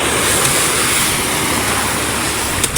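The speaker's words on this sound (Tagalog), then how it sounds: "gawa ng kahampas ng alon." Ocean waves crash against a container ship on the Pacific in rough weather, a dense, continuous loud wash of water and spray with no pauses.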